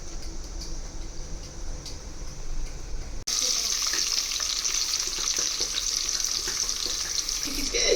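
Masala and ghee fry in hot oil for biryani. A soft background is followed by a sudden loud, steady sizzle that continues close up for several seconds.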